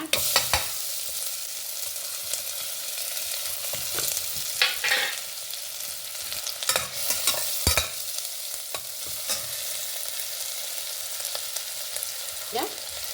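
Garlic and onion fry in a pan with a continuous bright sizzle, broken by several sharp stirring scrapes and clatters, no voices.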